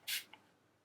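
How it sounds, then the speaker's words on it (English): A short spritz of setting spray onto a makeup sponge, one quick hiss up close, followed by a faint second puff and quiet. "I'm going to spray it again because I just want this stuff to stick so bad."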